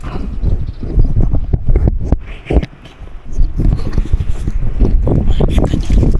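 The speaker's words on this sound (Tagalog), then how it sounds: "Hindi kaya, masyadong mahangin." Strong gusty wind buffets the microphone with loud, uneven rumbling, easing briefly midway before picking up again.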